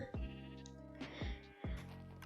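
Sheep in the Minecraft video game bleat three times in a steady rhythm, each a clear, close, wavering call over a constant soft background hum.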